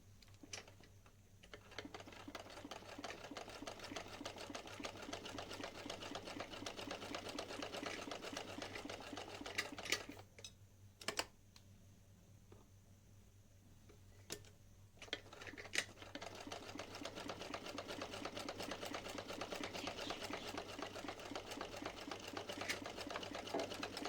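A sewing machine stitches a small dhoti with rapid, even mechanical ticking, running in long bursts broken by short pauses and a few sharp clicks, close and fairly quiet.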